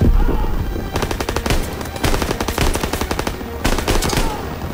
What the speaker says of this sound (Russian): Отдача, конечно, у карабина сдуреть.